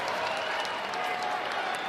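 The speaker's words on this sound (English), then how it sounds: "Crowd comes to life here in Maturi Pavilion." A crowd at a college wrestling match in Maturi Pavilion makes a steady, moderately quiet roar of cheering and clapping, with a commentator's voice faintly underneath.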